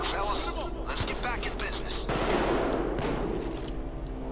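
Rapid pistol and gun fire from a Payday 2 heist shootout, a dense burst of sharp shots with bursts of rattling fire, loud and close, running under excited talk from players.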